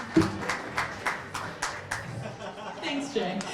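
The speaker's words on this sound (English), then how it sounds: "Thank you for clapping." An audience at the Burlington Idol 2019 finals claps in a short, uneven burst of separate hand claps, fairly close, with voices talking around it.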